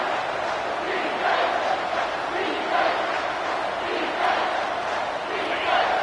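A football stadium crowd roars steadily as it rallies behind the defense on third down, a broad sustained wall of cheering that swells in waves across the whole span.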